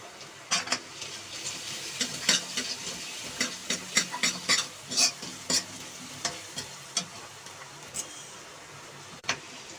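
Besan kadhi base with turmeric roasts in a pan over a low flame for Punjabi palak kadhi, a steady sizzle broken by a rapid run of sharp spatula taps and scrapes that thin out toward the end.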